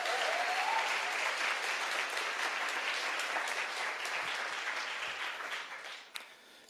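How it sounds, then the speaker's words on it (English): An audience at an arts day event gives a steady, full round of applause, sustained and fairly distant-sounding, tapering off toward the end. "One more round of applause."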